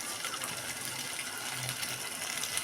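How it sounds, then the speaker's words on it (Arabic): Hot water pours into a pot of rice being cooked, a steady close gushing wash of liquid that runs unbroken for a few seconds with no talk. "الميه سخنه، لازم تكون سخنه يا جماعه"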